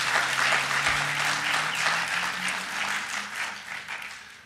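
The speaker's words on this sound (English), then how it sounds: "Clap your hands." A church congregation applauds and claps their hands in response to a preacher's call, a sustained dense wash of many hands lasting throughout, fading slightly toward the end.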